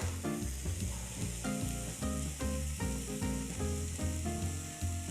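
Tomato paste sizzles in a pan for a plant-based lasagne, a soft, steady fry heard up close. Rhythmic tonal sound runs throughout over the low sizzle.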